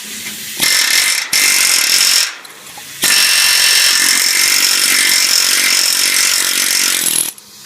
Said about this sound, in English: So the way we get that off is with a little air chisel.